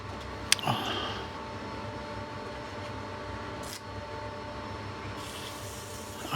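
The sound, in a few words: sanding a woodturning on a lathe at 150 grit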